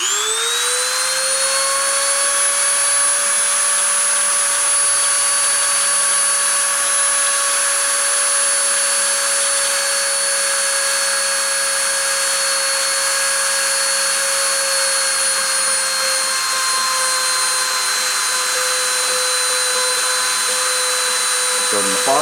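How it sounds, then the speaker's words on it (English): A Dremel rotary tool whines steadily at high speed for over twenty seconds, a loud sustained tonal hum that dips slightly in pitch near the end as it loads up. "I'm going to go ahead and turn the dremel on"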